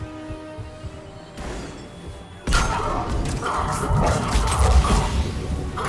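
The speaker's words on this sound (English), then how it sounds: "Ooh, that fire explosion though." A fire explosion in the video game Mass Effect 3 bursts in with a sudden loud roar that swells into a sustained crackling, rumbling blast after a quieter stretch of gameplay noise.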